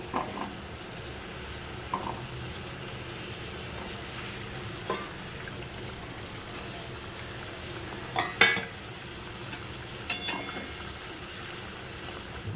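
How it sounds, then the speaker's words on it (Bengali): Pieces of hilsa fish frying with spices in a pan, a faint steady sizzle running throughout with a few brief clinks and stirring knocks scattered across it. "এখানে যে তিন পিস ইলিশ মাছ ছিল সেই মাছটা মশলা দিয়ে করছি"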